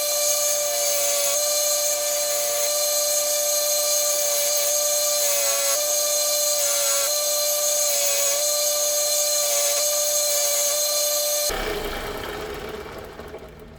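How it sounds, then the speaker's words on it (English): A belt sander grinds a Glock pistol frame with a loud, steady high-pitched whine and slight pitch wavers, then the motor is switched off and spins down near the end. "I'm going to use this belt sander again"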